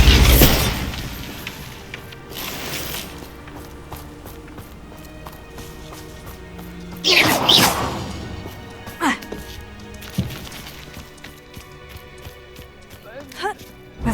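A Bombarda blasting spell cast in Hogwarts Legacy on Xbox Series S, a sharp magical burst with crackling debris around the middle, set among scattered footsteps and other game effects, with a voice speaking at the start.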